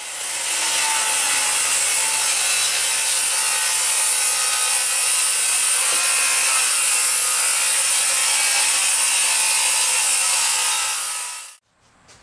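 Wooden furring strips are sawn in one loud, continuous stretch of cutting noise that lasts about eleven seconds and then stops abruptly.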